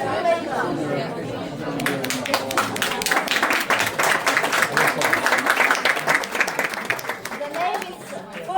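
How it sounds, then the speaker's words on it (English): Audience applause and clapping for a filmmaker at a Berlinale networking event, dense and steady for several seconds with crowd chatter mixed in, fading slightly at the end. "please applause for our great filmmaker"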